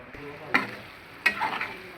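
Prawn curry sizzling in a pan as ground masala paste goes in, a steady low frying hiss broken by two sharp splattering bursts about a second apart, close and with no talking.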